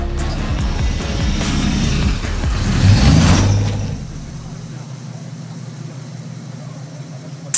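Ford Mustang engine in a racing game, a close, loud roar that builds and revs hard for a few seconds, then drops away to a low, steady idle hum.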